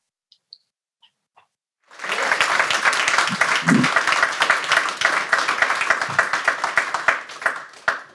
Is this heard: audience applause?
yes